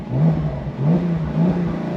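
Porsche 911 Carrera T Cabriolet with a six-speed manual revving hard on throttle, its engine note rising in three quick surges, loud and close with no talking.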